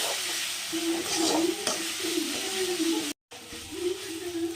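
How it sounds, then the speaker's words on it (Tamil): Ginger garlic paste and softened onions are sautéed in a pan, giving a soft, continuous sizzle with scraping stir strokes, broken by a brief moment of silence before the frying resumes. "வெங்காயம் நல்லா வதங்கின உடனே இஞ்சி பூண்டு பேஸ்ட்டு போட்டு கொஞ்சம் வதக்கிடணும்"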